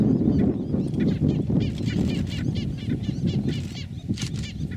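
Terns and skimmers call from a sandbank in the Pantanal, a dense, continuous chorus of many harsh, overlapping cries, close and fairly loud, with no talk.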